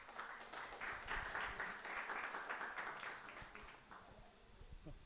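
Applause from a church congregation, a dense patter of clapping filling the room at a steady level before thinning out toward the end.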